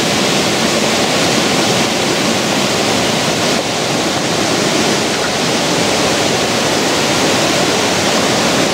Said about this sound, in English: come to a stream here